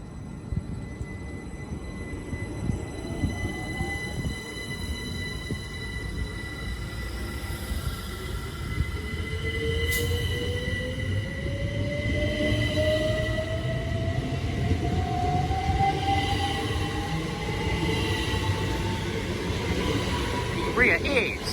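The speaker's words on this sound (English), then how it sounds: "Departing out now is the 12:02 Great Western Railway service from London Paddington to Decot Parkway." A Great Western Railway train departs Pangbourne station on a London Paddington to Didcot Parkway service, a low rumbling roll with a rising electric whine that slowly builds in level over about twenty seconds, heard from the platform.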